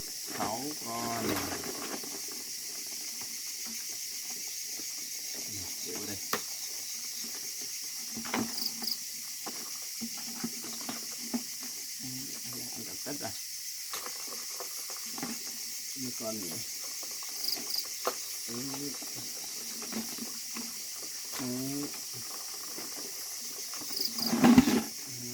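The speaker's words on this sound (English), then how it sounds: "The sizzling sound of the hot oil" Crabs frying in hot oil in a pan in a mountain hut at night, a steady faint sizzle and hiss running throughout with occasional pops, and a voice speaking intermittently over it.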